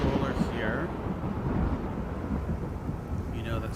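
Thunder rumbling through a storm in the video game The Falconeer, a continuous low, loud roll sustained across the whole stretch with a voice talking faintly over it.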